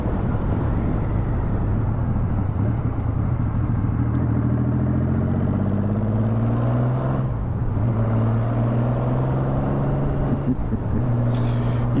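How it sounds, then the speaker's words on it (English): Motorcycle riding through a tunnel on a morning ride, its engine droning steadily with rising and falling pitch as it revs and shifts, the enclosed space filling the sound with a dense, reverberant roar. "Just gotta love the sound of a motorcycle going through a tunnel,"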